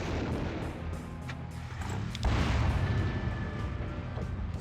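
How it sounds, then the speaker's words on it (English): Artillery fire in the strategy game Final Liberation: Warhammer Epic 40k, a dense rumbling barrage of booms that swells sharply midway and keeps roaring, loud and continuous. "And then we've got artillery."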